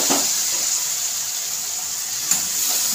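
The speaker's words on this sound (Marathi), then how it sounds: "थोडंसं पाणी घालते, कारण ते मसाला जळू नये म्हणून।" Water is poured into a spice masala cooking in a pan of black-eyed pea curry over low gas, giving a soft, steady hiss and sizzle with a brief splash partway through.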